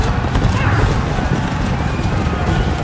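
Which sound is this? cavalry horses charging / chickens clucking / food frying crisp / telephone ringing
cavalry horses charging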